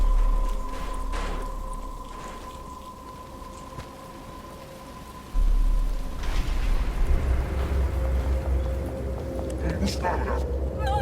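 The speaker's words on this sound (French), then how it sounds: "Il commence à pleuvoir." Rain sets in over a tense scene in Batman Arkham Asylum, a diffuse patter layered over a low hum and tonal drone, swelling louder partway through as the downpour thickens.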